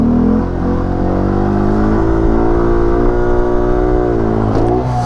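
A car accelerating on a stunt lot during foot-brake-only practice, loud and close, the engine held at an even throttle with its pitch creeping steadily upward as revs climb, alone without talk.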